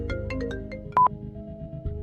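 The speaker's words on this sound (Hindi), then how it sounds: "उसके फोन पर आ रहा नैना की मां अनीता जी का कॉल कुछ ऐसा ही फील करवा रहा था।" A mobile phone rings with an incoming call, a short melodic ringtone of bright repeating notes over a sustained tonal backing, loud and clear with no talk.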